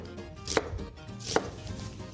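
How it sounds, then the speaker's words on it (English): A knife slices an onion into half moons on a cutting board, giving two distinct, close, crisp chopping thuds about a second apart, with no talk. "I'm going to cut it in half and then cut it into 1/4-inch half moons."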